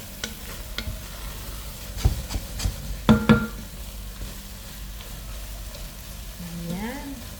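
Bitter gourd (ampalaya) cooks in a large uncovered casserole pot, a steady sizzle running underneath while a utensil stirs and knocks against the pot in a few sharp clusters near the middle.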